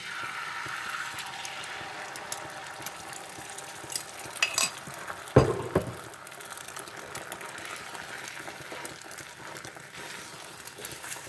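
Scrambled eggs cook in butter on a griddle, a steady soft sizzle with scraping and stirring sounds, including a sharper clack of a utensil partway through.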